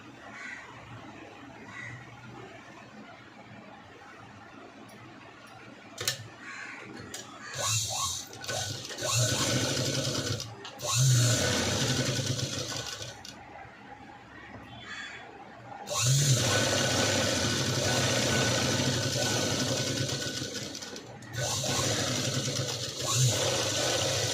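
Sewing machine stitching a zip onto a blouse: several sustained mechanical whirring runs separated by quieter pauses, fairly close and steady.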